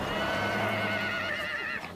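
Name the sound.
Przewalski's horses neighing on arrival in Mongolia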